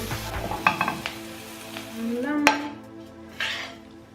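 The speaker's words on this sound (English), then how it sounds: "now we finished to pan fry our vegetables" Vegetables and mushrooms pan-frying for a vegetarian Korean bibimbap, a close sizzle with spatula stirs and clinks of utensils against the pan, an isolated louder metallic knock midway, and no talk.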